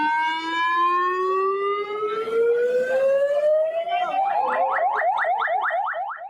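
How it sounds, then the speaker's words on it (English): An ambulance siren in Galle, Sri Lanka, rises in a long wail, then switches to a fast rhythmic yelp, loud and fairly close. "Ambulances screech through Galle, Sri Lanka's coastal tourist hub"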